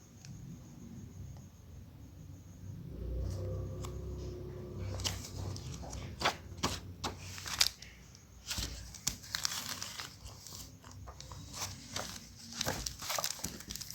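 Pages of current affairs booklets being flipped and shuffled, giving papery rustles and crisp crinkling flicks in irregular bursts, close by and moderately loud, with a low rumble underneath.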